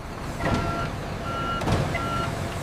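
A truck backs into a warehouse bay with its reversing alarm beeping three times at an even pace, over a steady engine rumble and hiss.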